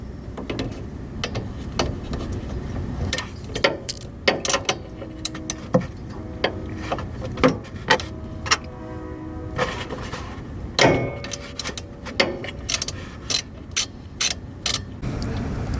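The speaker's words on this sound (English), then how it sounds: "So the nut that we're trying to get off is that one right there, which is a 14mm, so Mario's gonna hit that right now." Ratchet wrench working a 14mm nut on a Mazda Miata handbrake: quick runs of clicking pawl ticks, close and fairly quiet, with a few metallic knocks, no talk.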